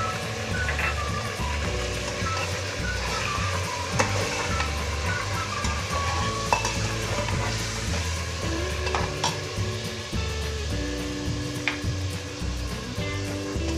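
Garlic and ginger fry with chicken pieces for a chicken korma in a pot, giving a steady loud sizzle with stirring scrapes and occasional clinks of a spoon, alone without talk.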